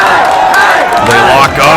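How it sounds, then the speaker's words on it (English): Wrestling arena crowd for a Daniels versus Steen match, a dense roar of many voices with shouts and chants rising and falling close up, loud and continuous. "Some crowd support for Daniels, some for Steen."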